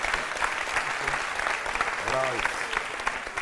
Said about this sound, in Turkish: Alkışlıyoruz tekrar sevgili dostlarımız.